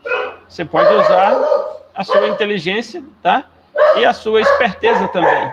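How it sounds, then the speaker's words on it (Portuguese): A person speaks steadily while dogs bark somewhere in the background, the barking mixed under the talking. "Desculpem pelos latidos de fundo aí, mas são meus cães."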